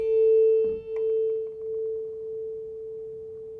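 Two steady pure tones sound together, making a single hum whose loudness slowly swells and fades in a wah-like beat roughly once per second, with a faint click early on.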